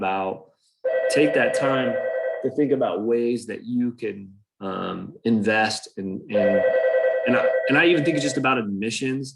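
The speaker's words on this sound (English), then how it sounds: "Sorry about my phone." A phone rings with a steady electronic tone in two stretches beneath someone talking continuously in a leadership meeting.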